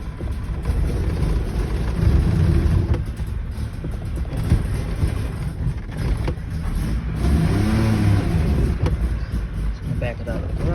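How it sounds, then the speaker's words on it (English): A 1961 DKW idles and revs gently while backing out of a garage, a steady low engine drone with slight rises in throttle, close by and continuous. "Just gonna back it out of the garage a bit."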